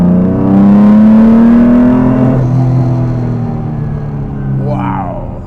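A restored Jaguar E-Type sports car engine accelerates hard, its strong rising drone climbing in pitch, easing off into a lower rumble, then revving briefly again as the car drives on. The engine is loud and close.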